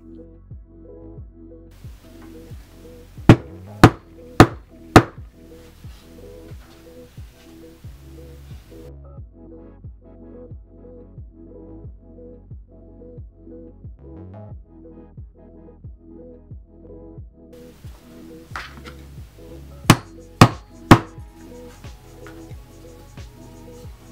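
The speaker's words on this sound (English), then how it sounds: "again I use my trusty hammer with a gentle touch" A hammer taps wooden doll bed pieces together with a gentle touch, two quick bursts of four sharp knocks each, heard over a steady throbbing background hum.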